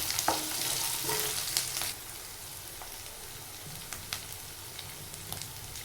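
Okra fry ingredients with ginger paste stirred in a frying pan: a steady oily sizzle with sharp scrapes and clicks of the spoon against the pan, louder at first, then settling into a quieter hiss.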